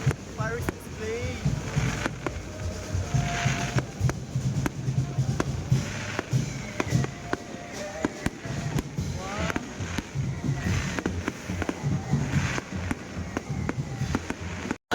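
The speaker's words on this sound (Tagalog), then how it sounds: "May pa fireworks display." A fireworks display at a town fiesta, with repeated pops and bangs scattered throughout amid wind noise and people talking excitedly nearby.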